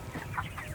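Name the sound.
chickens at feeding place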